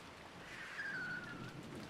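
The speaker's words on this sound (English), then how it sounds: "A single car drove through the gentle rain towards the alley" Gentle rain falling at night in the Rose Guns Days game, a soft steady hiss with a brief faint tonal swell in the middle, no talk.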